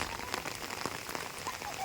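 Steady rain pattering on surfaces in Parassala after a windstorm that toppled a tree, a soft, dense hiss with scattered drop taps and no one speaking.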